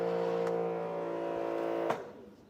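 A Giraffe Grandfalls wall-mount pressure washer with an induction motor runs at a steady, loud hum with strong tonal harmonics, then cuts off abruptly near the end, leaving a fading tail.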